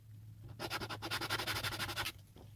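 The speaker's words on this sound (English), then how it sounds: "I'm going to sand this down just a little bit here so I can take the color of the wording" Printed cardboard packaging is sanded by hand to take off the colored wording, a run of quick rhythmic scratchy strokes lasting about a second and a half against a low background hum.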